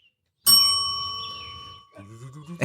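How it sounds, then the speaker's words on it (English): A bell sound effect strikes once with a bright, sustained ringing tone that slowly decays, followed by a voice starting to speak near the end. "the bells bring it right back"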